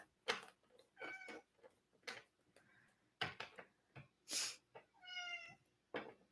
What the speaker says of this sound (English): He's just meowing at me.